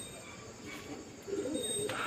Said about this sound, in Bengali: আর পায়রা পুরো হাঁপিয়ে পড়েছে দেখুন